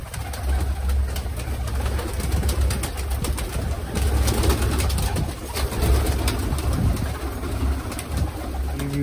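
Domestic pigeons coo steadily while feeding on grain and millet-bread crumbs, a soft continuous murmur of overlapping calls close by with some rustling and no talk.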